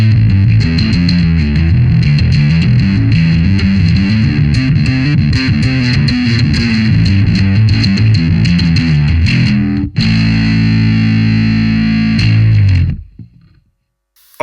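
Music Man bass guitar played through a distortion effect, a loud gritty riff of rhythmic notes that switches to a sustained chord near the end and then cuts off into near silence.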